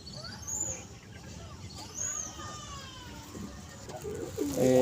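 A male pigeon in a domestic loft coos softly, with a few thin high chirps from other birds scattered through the clip and a brief burst of clattering noise near the end.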